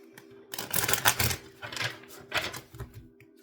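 Soft papery shuffling and riffling of tarot cards in a few short bursts, close by and fairly quiet, over a low steady hum.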